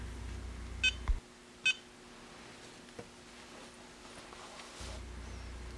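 A BattGo BG-8S battery meter sounds its low-voltage alarm with three short, sharp beeps close together near the start, then goes quiet apart from a faint electrical hum.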